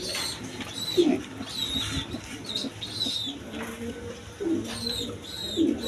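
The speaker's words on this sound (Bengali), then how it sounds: "এখানে এক পেয়ার বোম্বাই কবুতর আছে" A breeding pair of Bombay pigeons coos in soft, low, repeated bursts, with brief higher bird chirps scattered around them against a steady background hum.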